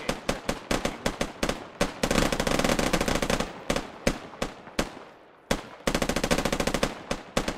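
Rapid bursts of automatic gunfire, with sharp single shots between them, crack loudly and close by in a military combat video game, with brief gaps between volleys.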